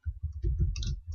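A single Tab key press on a computer keyboard during Excel data entry, heard as a few close, soft clicks over a low background hum.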